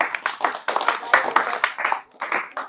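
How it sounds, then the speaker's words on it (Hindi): A small group of students and onlookers claps for a pupil's top score, short uneven bursts of nearby hand clapping with brief pauses, mixed with speech. "इसके लिए जोरदार तालियां।"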